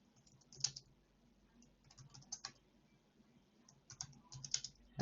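Keystrokes on a computer keyboard come in scattered bursts of clicks, with a few louder taps clustered near the start and end and quieter pauses in between.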